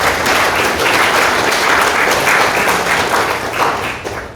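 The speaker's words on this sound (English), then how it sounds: "give them a round of applause" An audience at a fall employer panel applauds the panelists, a loud, dense, steady clatter of many hands that carries on for several seconds before starting to thin and fade.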